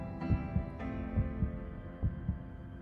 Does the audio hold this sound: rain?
no